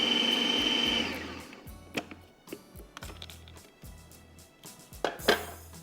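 Food processor or chopper grinding ingredients for savoury lollipops, a steady whirring grind for about a second, then stopping into quieter clinks and handling noises from the bowl.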